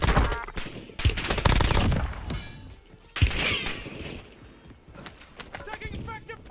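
Rapid bursts of automatic gunfire from a firefight in Call of Duty Black Ops 6 / Warzone on Verdansk, with overlapping shots dense early on and thinning out, while voices talk over the fighting.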